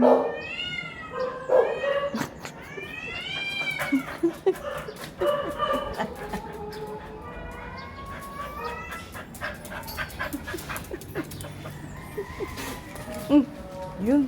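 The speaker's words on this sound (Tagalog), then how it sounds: "Ayan yung miming, oh. Ang miming." Cats yowl and meow repeatedly in rising, wavering cries as they fight up in a tree, with scuffling noises and people talking over the commotion.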